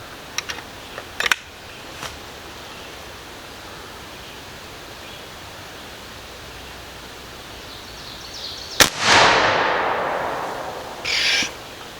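A Bush Buck 452 big-bore air rifle fires one loud, sharp shot near the end, followed by a long hissing decay. A few small clicks come earlier, and a brief burst of noise follows the shot.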